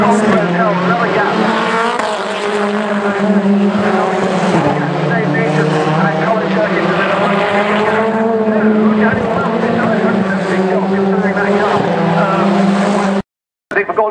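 BTCC touring cars race at Thruxton, a loud sustained engine roar with shifting pitch as the cars pass close, then a brief cut to silence near the end.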